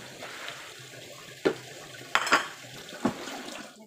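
Washing chicken and cooking ingredients in a kitchen sink gives a few sharp clatters of dishes and utensils against a soft background of running water.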